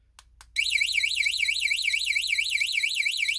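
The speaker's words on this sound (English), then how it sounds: "it just sounds the alarm, so you can find your vehicle if you don't know where it is" A cheap Chinese moped alarm set off by a vehicle-finder key fob: a couple of faint clicks, then a loud, continuous warbling electronic siren that sweeps up and down rapidly and stays steady to the end.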